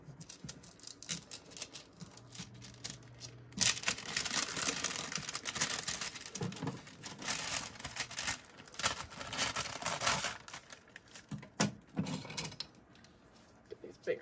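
Scissors cut through parchment paper in a series of crisp, papery snips and crinkles, close and fairly quiet, with irregular bursts and brief pauses between cuts.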